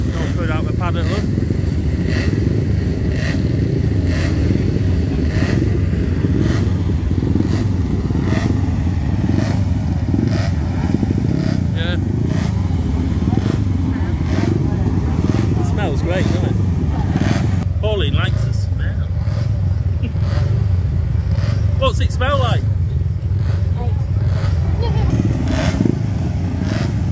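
A Norton motorcycle at a sprint event, running at a loud, steady, rough roar with clattering mechanical noise, close and continuous throughout, with no clear revving peaks.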